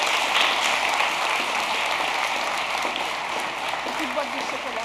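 An audience applauding at a World Language National Honor Society induction ceremony, a steady wash of many hands clapping at moderate volume, sustained evenly with murmuring voices underneath.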